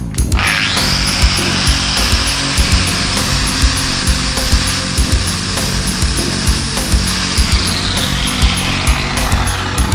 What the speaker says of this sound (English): Now I'm going to use the end grinder and make this edge a little bit more straight